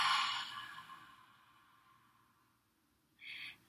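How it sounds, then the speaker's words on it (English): A slow, deep breath out fades gradually over a few seconds, followed by a short breathy inhale near the end, close and soft in a quiet room. "Big breath in and big breath out."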